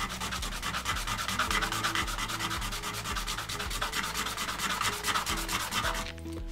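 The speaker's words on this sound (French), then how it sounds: "Avec du papier ici pour poncer en 220, ça fera le travail." A rigid watercooling tube fitting is rubbed flat on 220-grit sandpaper, making fast, regular, close scratchy strokes that go on without a break and stop just before the end.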